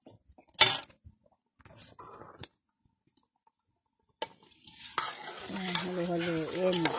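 Merienda being stirred in a pot over a wood fire in the countryside, with a few scraping stirs and clanks, then a steady sizzling bubble rising as a person talks over it.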